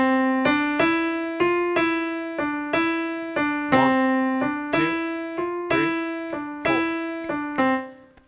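A keyboard plays a steady run of swung eighth notes, long-short pairs of bright piano-like tones at a moderate tempo, close and clear with no voices over them.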